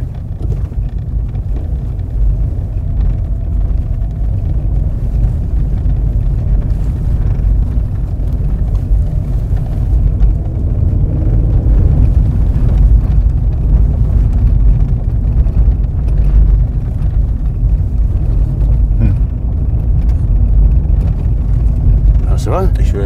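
A Skoda Roomster with a rattle fault driving over a cobbled test road, a loud steady low road and engine rumble with bumps and wind noise, voices talking over it.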